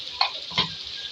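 Ground red chili and coriander powder cook in a pan with a soft sizzle and two quick stirring scrapes, brief and close with no voices.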